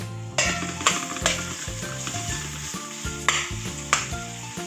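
Onion, garlic, lemongrass and ginger sautéing in a pan while cooking upo, with a lively sizzle broken by repeated rhythmic scrapes and knocks of a spatula against the pan, close and with no speech.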